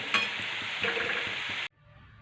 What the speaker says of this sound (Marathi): आता हे सगळे मोदक आहे ना मी तळून घेणार आहे